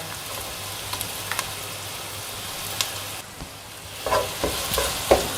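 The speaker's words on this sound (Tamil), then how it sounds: "பச்சை வாசனை போகிற வரைக்கும் நம்ம வதக்கிக்கலாம்." Ginger garlic paste and onions sauté in a pan with a steady gentle sizzle, and a spatula scrapes through them in a few louder strokes near the end.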